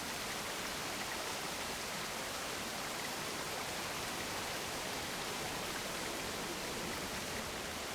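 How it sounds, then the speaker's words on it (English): A waterfall placed in the theme park builder Planet Coaster 2 gives a dense, unbroken rushing hiss of falling water, steady and fairly loud without pauses or voices. "And then we get the waterfall middle."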